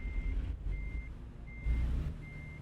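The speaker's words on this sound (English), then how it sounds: "We're backing up so we can hit this" A truck in American Truck Simulator backs up, its reversing alarm beeping four times at an even pace over a steady low engine drone.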